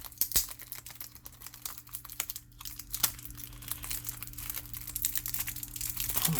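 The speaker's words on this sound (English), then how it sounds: "Let me get the plastic off here." Plastic wrap being peeled and torn off a VS System trading card set box, close crinkling and crackling in irregular bursts that build toward the end, with no talking.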